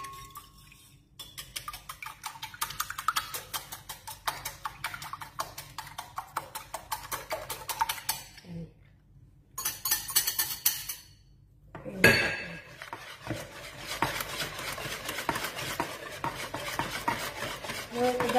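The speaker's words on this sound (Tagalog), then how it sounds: "mix natin ang itlog." Eggs and mashed banana being mixed in a bowl for a simple banana cake, a busy scraping and clinking of a utensil against the bowl in rapid strokes, pausing briefly before resuming.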